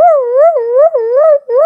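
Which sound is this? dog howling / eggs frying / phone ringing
dog howling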